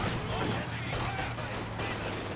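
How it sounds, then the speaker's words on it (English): A dense, continuous roar of battle from Company of Heroes 2, with an artillery barrage and gunfire blending into unbroken, loud, crackling noise. No single shot stands out, and a voice runs through the din. "Barrage coming in from the side, but there's a lot of grenadiers here."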